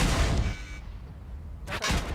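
A heavy tank's main gun fires in the World of Tanks video game: two loud, sharp booming blasts, one at the start and another near the end, with a quieter gap between them.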